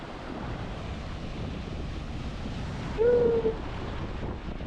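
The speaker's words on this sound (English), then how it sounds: "the wind is crazy. But it's like warm wind, you know." Strong warm wind buffets the microphone at Agia Marina beach near Chania, Crete, a steady roaring rush with surf beneath it and a brief higher whistle about three seconds in.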